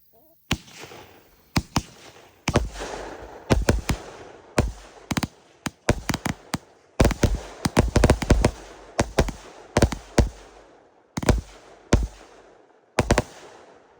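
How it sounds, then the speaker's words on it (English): A Hailstorm 25-shot firework cake by Flashing Fireworks fires a loud, irregular string of sharp bursts and crackles, some shots coming in quick clusters, each one decaying briefly before the next. "Hailstorm by Flashing Fireworks"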